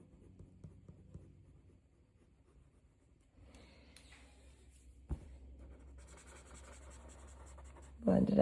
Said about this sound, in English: I'm just letting the weight of the pencil do the work for me.